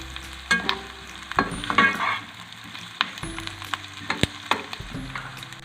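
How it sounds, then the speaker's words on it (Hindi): Boiled potatoes and vegetables frying in a pan, with a continuous sizzle broken by scraping stirs and sharp clacks of a utensil against the pan at irregular intervals, close and fairly loud. "आलू मैंने पहले से उबाले हुए हैं, बस जस्ट इनको थोड़ा सा फ्राई करना है।"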